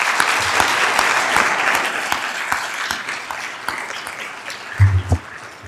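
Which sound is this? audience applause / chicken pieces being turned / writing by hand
audience applause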